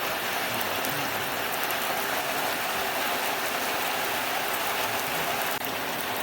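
Steady rain falls on a mountain trail on Rinjani, a dense even hiss of drops with no talk over it.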